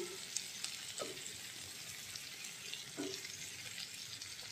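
Eggplant goes into a hot frying pan with a quiet, continuous sizzle and a few soft clacks of stirring, faint and without talk.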